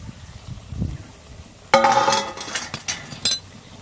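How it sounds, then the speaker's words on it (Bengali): A metal lid comes off a pot of bitter gourd chorchori with a sudden bright clank and a short ringing tone, followed by a few lighter clinks and scrapes of cookware after a quiet start. "ঢাকনাটা খুলে নিলাম"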